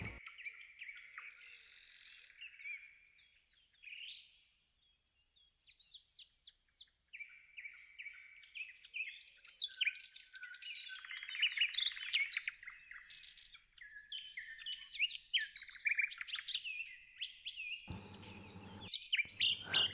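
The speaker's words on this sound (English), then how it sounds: "The beautiful birds whose songs weave the fabric of the forest." Forest birds sing continuously in varied chirps, trills and quick whistled phrases, several birds overlapping at close to middle distance, with no voices.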